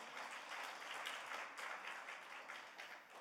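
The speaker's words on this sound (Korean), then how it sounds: "성가대 대원 한 분 한 분, 또 지휘자님, 반주자님들에게 축복의 박수 부탁드리겠습니다" A church congregation claps to bless the choir members, conductor and accompanists, a soft, distant, even patter of many hands that fades slightly toward the end.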